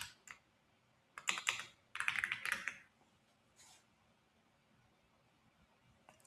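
Keys clatter on a computer keyboard in a few short bursts of rapid typing separated by pauses, close and clear in an otherwise quiet room.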